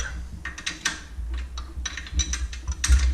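A ratchet loosens the 14mm and 15mm clamping bolts on a Jeep CJ's fan-belt bracket, giving repeated bursts of quick, close metallic clicking over a low background rumble.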